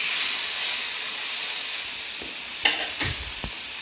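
Loud, steady hissing sizzle of seer fish frying on a hot dosa griddle, close up, with a few sharp pops and scrapes near the end.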